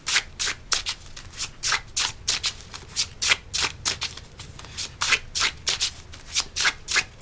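A deck of healing oracle cards is shuffled by hand in a steady run of crisp riffling bursts, about two per second, close and fairly loud with no talking.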